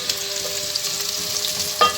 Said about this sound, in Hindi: प्याज़ों को अच्छे से ब्राउन कर लेने के बाद इसमें हमने लहसुन अदरक शामिल कर दिया है